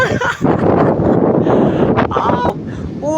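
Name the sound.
wind blowing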